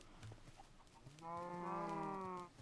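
Cows moo in Minecraft, a long drawn-out bovine low with rich harmonics rising out of a busy background of overlapping farm animal noise.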